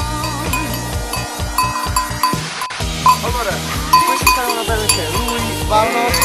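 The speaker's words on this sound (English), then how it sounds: "the sheep, 180 Sardinian milk sheep" A flock of about 180 Sardinian milk sheep bleats repeatedly on a farm, the calls overlapping in an uneven chorus with faint clinking, while people talk over the animals throughout.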